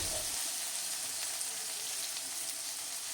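Chilli and tomato fry in a pan with a steady, dense sizzle that stays loud and even throughout, with no voices.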